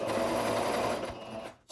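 A sewing machine runs continuously as it stitches a seam on a garment, giving a brief, steady mechanical whir that slows and stops at the end.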